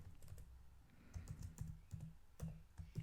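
A computer keyboard is typed on to enter a password, a quick irregular run of soft close key taps with no talk.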